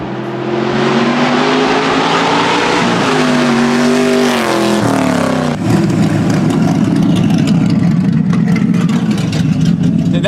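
A refurbished car accelerates hard, its engine roaring loud and close with rising revs through several gear changes, then a sustained rough high-rev drone, no talking.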